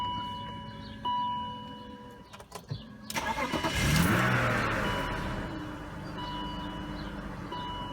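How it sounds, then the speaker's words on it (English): BMW 528i engine starting after a transmission control unit replacement, heard in a brief crank that catches abruptly and rises into a revving surge before settling to a steady idle, close by. "I'm going to try and start it and see if that engine transmission control warning light comes on again."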